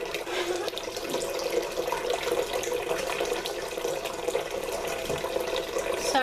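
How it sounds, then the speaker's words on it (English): A tap runs filtered water into a container for brewing kombucha, a steady, continuous splashing stream heard close and alone for the whole stretch. "I'm putting filtered water in."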